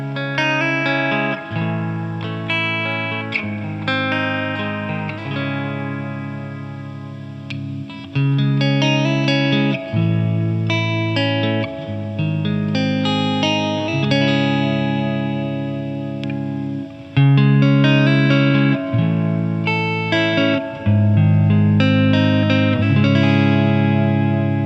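Hartwood Drifter electric guitar with P90 pickups played clean through a Fender amp with lush ambient reverb, strummed chords ringing out and changing every few seconds, loud and continuous with no voices.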